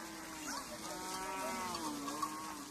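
Cattle in a Nuer herd being taken out to pasture along the Nile moo in long, drawn-out calls that overlap one another under a steady outdoor background, moderately distant, with no one talking.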